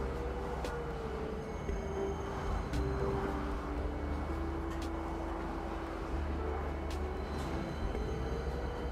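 Tram at a station in Star Citizen, a low steady rumbling drone with a faint tonal whine and occasional light clicks, continuous and moderately quiet throughout.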